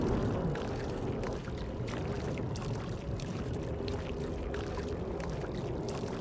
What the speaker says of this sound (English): So time to dump a whole lot of water.